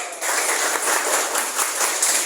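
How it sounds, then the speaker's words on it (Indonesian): A classroom group breaks into continuous applause, many hands clapping at once in a dense, steady wash of sound, close and moderately loud without speech. "Oke, tepuk tangan dong."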